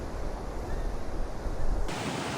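Ocean waves break on Aravi beach at Diveagar in a loud, close, continuous wash of surf mixed with wind buffeting, cutting off abruptly near the end.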